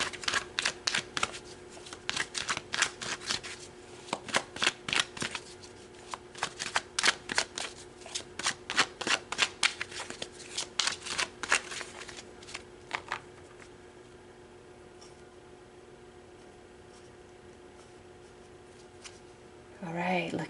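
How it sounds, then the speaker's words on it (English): A tarot deck is shuffled by hand in a rapid series of crisp riffling flutters for about thirteen seconds, close and clear, then the sound stops and a quiet lull follows before a brief rustle at the end. "So let's pull some more cards."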